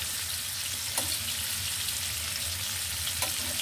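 Fish frying in oil in a kadai wok, a steady close sizzle and crackle running throughout with a couple of brief louder spits.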